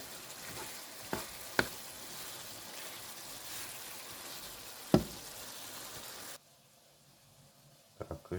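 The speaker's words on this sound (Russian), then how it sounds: "Чеснок добавил. И перемешиваю." Garlic frying in a pan for Yakutian foal-meat pilaf, with a steady soft sizzle, a few sharp knocks of the spoon against the pan, and then a sudden drop to near quiet with a couple of late clinks.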